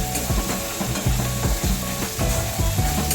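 Palak paneer masala is sautéed in a pan over raised flame, giving a continuous sizzle under rhythmic, repeated stirring strokes that scrape and knock about every half second, close and fairly loud, with no speech.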